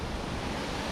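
Ma-Cuu waterfall in the Costa Rican jungle roars as a dense, steady wash of falling water, loud and continuous with no voices.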